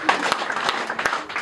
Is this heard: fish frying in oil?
no